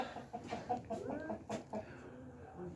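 Hens cluck softly in a farmyard shared with lambs and other birds, a quiet, continuous scatter of short calls at moderate distance.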